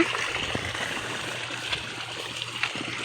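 Water trickling and splashing steadily from the tank of a pesticide pump sprayer in a farm setting, a continuous close flow with small splatters throughout.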